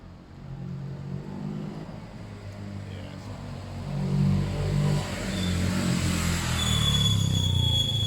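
A Suzuki GS500 two-cylinder motorcycle engine with freshly cleaned carburettors runs close by, a steady low rumble that swells partway through as the revs rise and then holds at the higher level.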